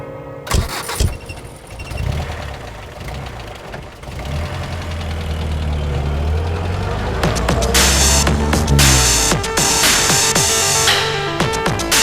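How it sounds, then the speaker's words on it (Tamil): A car engine turns over and settles into a steady idle, a loud continuous rumble filling a scene from a Tamil TV serial, with rising revs toward the end. "வண்டி கிளம்பிருச்சு"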